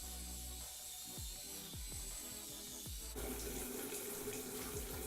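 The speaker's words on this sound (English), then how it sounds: "I'll just kind of wash my face" Water runs steadily from a bathroom tap during face washing, a constant close hiss broken by splashes and drips as hands move through the stream, with the flow growing fuller partway through.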